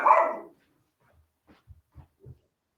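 A dog gives one loud, close bark, followed by a few faint, soft low woofs or huffs spaced out in quiet.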